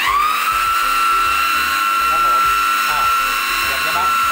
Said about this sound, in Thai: เดี๋ยวจะมาขัดเหล็กนะครับเนี่ย